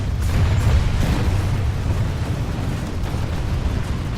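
A generator blows up in the video game Planetside 2, a loud, dense rumbling blast that swells at once and then roars steadily for several seconds with no break.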